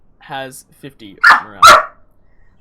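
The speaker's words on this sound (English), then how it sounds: "Excuse the dog barking in the back." Dog barking in the background, two sharp loud barks following a man's speech.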